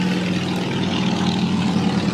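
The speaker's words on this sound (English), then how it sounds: "let's wait for this motorcycle to pass" A motorcycle passes nearby, a steady loud engine drone with a buzzing hum that holds throughout without clear fade.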